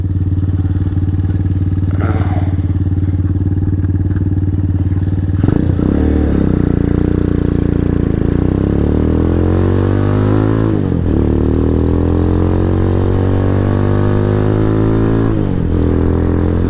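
A Venom X22R motorcycle rides at night, its engine droning loudly and steadily, then revving up through rising tones with shifts around the middle and again near the end, with no voices.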